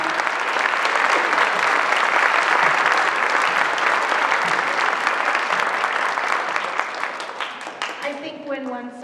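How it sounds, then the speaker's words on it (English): An audience at a 7th-8th grade spring band pops concert applauds the trip chaperones with steady, dense clapping for about eight seconds. It fades slightly before a voice begins speaking at the end. "So kids, let's clap for them."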